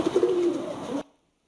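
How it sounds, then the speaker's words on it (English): An AI-generated pigeon scene: a close, low cooing with a soft fluttery rustle that cuts off abruptly into near silence. "This is an example of basically pigeons flying."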